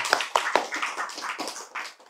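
A few scattered hand claps ring out at an Islamic religious lecture, sharp and close, with no one speaking over them.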